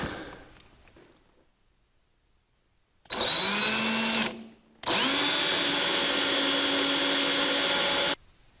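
Power drill boring mounting holes in a 1949 Chevrolet gasser, two loud whining bursts close by, a short one then a longer steady run after a brief pause, following a quiet lull with no talk.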